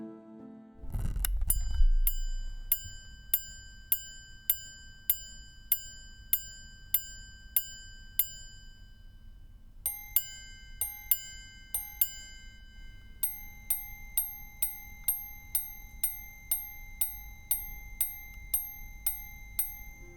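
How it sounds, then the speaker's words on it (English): A Bulgari Octo Roma Carillon Tourbillon chiming watch strikes a tritone, opening with a soft mechanical whir, then a long series of bright, delicate metallic gong tones in steady repeating groups, close and clear in near silence. "The use of the tritone in the new chiming watches from Bulgari is more than a way to set the brand apart."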